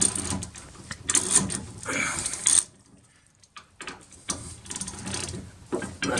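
A ratchet turning an 8mm Allen bit on the brake caliper bolts of a Seat Leon Supercopa race car, close mechanical clicking in bursts with a short pause in the middle.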